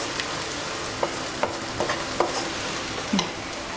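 A spoon stirs chicken curry masala in a pan with a soft background sizzle and several distinct scraping knocks spaced irregularly, close but fairly quiet, no voices.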